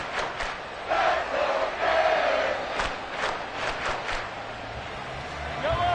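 Stadium crowd in Madden 24 roaring and cheering steadily through a third-down play, broad sustained noise with a few louder surges and faint horn-like tones.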